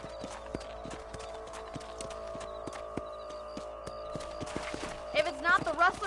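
Horse hooves clop at a steady galloping rhythm in the Western video game Red Dead Redemption, close and regular beneath a low ambient music bed, with a brief burst of sound near the end.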